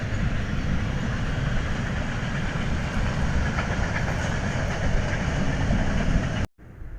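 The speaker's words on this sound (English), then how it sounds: "the train is passing by from this distance" A train rolls past at a distance with a steady, continuous rumble and rail clatter that holds evenly, then cuts off abruptly near the end.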